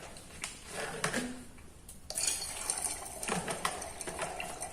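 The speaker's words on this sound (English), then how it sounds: "We'll put some dry ice into a beaker. We will add in some water." Dry ice dropped into water in a beaker, a steady low fizzing and bubbling with a few clinks and splashes, close and faint, no talking.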